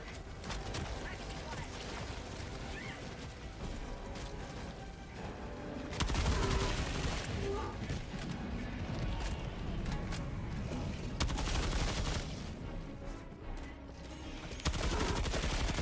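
Support-weapon gunfire in the Helldivers 2 shooter game rattles in sustained bursts amid other battle noise, fairly quiet and continuous, with a player talking over it.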